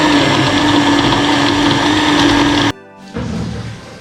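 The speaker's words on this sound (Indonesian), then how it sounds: "Baru kita blender." A blender whirs loudly and steadily, mixing a chocolate milk drink made with cocoa, milk and protein, then cuts off abruptly and restarts at a lower, rougher pitch.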